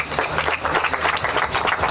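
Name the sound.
audience applause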